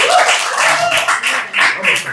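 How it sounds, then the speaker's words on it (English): Applause at a live short-form comedy show, a brief burst of clapping from the audience, loud and close, rising and falling with a voice mixed in. "Let's have a round of applause for आपको"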